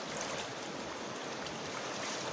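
The Goascorán River flows past at El Amatillo on the El Salvador–Honduras border, a steady broad rushing wash of water with a faint breezy edge, continuous and close, with no one talking.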